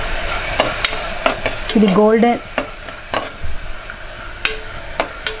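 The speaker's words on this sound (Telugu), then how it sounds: "ఆయిల్ కాగిన తర్వాత ఈ ఆనియన్స్ని అందులో వేసుకోండి." Sliced onions sizzle and fry in hot oil while being stirred, a steady hiss broken by repeated sharp scrapes of a spoon against the pan, with a brief tonal squeak near the middle.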